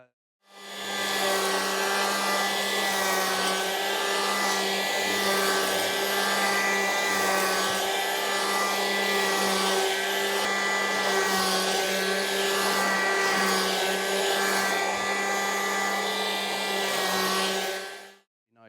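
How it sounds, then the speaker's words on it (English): A power planer runs steadily across a glued two-piece timber, a loud continuous high whine with a strong droning hum that starts up, holds for most of the stretch, then winds down at the end. "So I started planing it yesterday."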